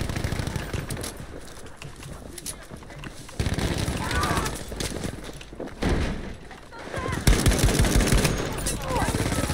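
Hip-fired gunfire in Battlefield V, bursts of rapid shots crackling loudly over the game's din, with a louder cluster near the end; someone talks over the action.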